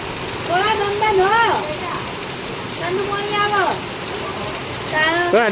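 Steady rain falls in Siddhpur, making a constant hiss beneath people talking loudly nearby.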